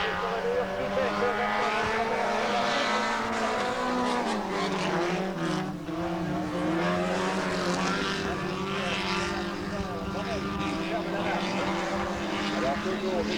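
Stock race cars circling the Autodrome Rive-Sud oval in 1991, a steady blended engine drone with shifting pitch as cars come and go, heard from a distance under continuous commentary.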